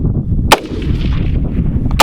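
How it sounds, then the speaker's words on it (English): Two loud, sharp rifle shots crack about a second and a half apart during a prairie dog hunt outdoors, each followed by a short rumbling echo. "I got one more shot left."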